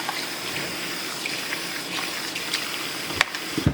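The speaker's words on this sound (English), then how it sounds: "I'm gonna put some water in that" Tap water gushes steadily onto frozen fish in a kitchen, a constant near splashing rush with a few clunks near the end and no talk.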